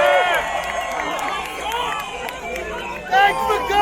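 A large rally crowd cheers and shouts loudly and steadily at a Donald Trump event in the Bronx, with a brief surge of louder yelling near the end.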